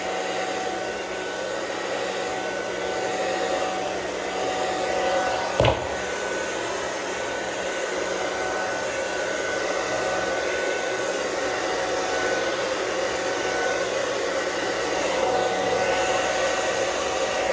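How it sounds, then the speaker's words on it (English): A hair dryer blows steadily and loudly nearby while styling a beard with a paddle brush, a constant whooshing hum with one brief click partway through. "Moving the hair dryer with the brush."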